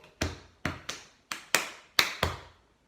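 Seven sharp hand claps or taps in an uneven rhythmic pattern, close and clear with short decays, played alone without any talk.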